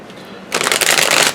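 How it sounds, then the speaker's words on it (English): Tarot cards shuffled by hand, a quick burst of riffling and flapping that starts suddenly and runs close and crisp for under a second after a quiet moment. "Pisces wants an extra shuffle."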